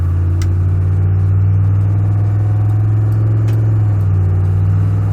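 A truck engine revs steadily as its failing transmission slips between gears, a loud, continuous low drone that stays near and unbroken, with no voices over it.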